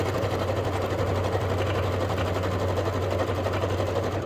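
A sewing machine stitches fabric for a crossbody sling bag, a steady, rapid mechanical whir with a low hum running continuously at close range.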